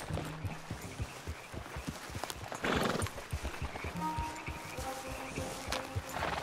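Horses walk along in Red Dead Redemption 2, their hooves sounding a steady clip-clop over the ground. A horse gives a short whinny partway through.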